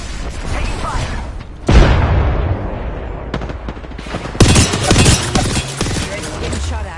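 Video game combat: bursts of gunfire and booming explosions come in loud volleys, layered over a dense, busy background.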